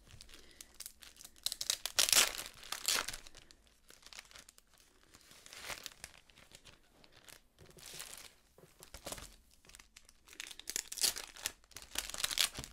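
A protective paper sheet is crinkled and set in place for adult colouring, with close, bursty crackling and rustling that comes in several waves separated by quieter gaps.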